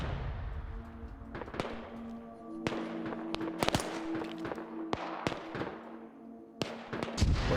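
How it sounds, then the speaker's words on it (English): Mortars fire in a military video game, with a rapid series of sharp booming reports. Some shots are close together and others spaced apart, and a steady tonal drone runs under them. "Those mortars are firing again."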